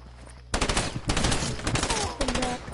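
A gun in Fortnite fires in rapid bursts of close, loud automatic shots with short pauses between them, heard after a quieter moment at the start.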